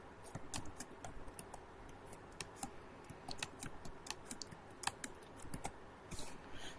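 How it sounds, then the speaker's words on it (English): Fingers type on a computer keyboard in quick, irregular bursts of close, crisp key clicks, fairly quiet, with no talk. "I am just typing in front of you."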